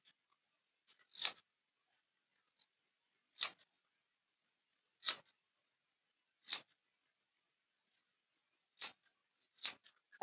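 Scissors cut through fabric along a stitched seam while a bustle is being made, six crisp snips spaced a second or two apart in an otherwise quiet room.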